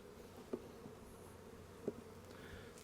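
Bees drone faintly and steadily around a beehive super, with two soft knocks partway through and no voices.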